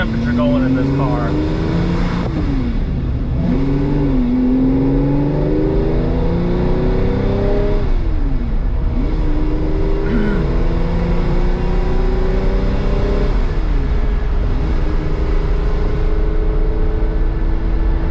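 A Ferrari 365GT 2+2 with a loss of power drives along, its engine revving up and easing off in repeated pulls, loud and close, with someone talking over the engine noise.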